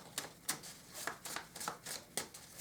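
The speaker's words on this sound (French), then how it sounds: "On va tirer maintenant des petites cartes manuscrites" Handwritten oracle cards being shuffled and drawn, a soft, close run of quick riffling bursts in an uneven rhythm, quiet and alone.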